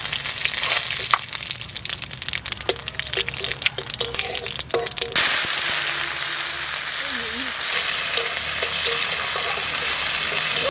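Bay leaf, dried chilli and cumin dropped into hot mustard oil, a close, bright frying sizzle with clinks and stirring early on, then settling into a steady hiss for the rest.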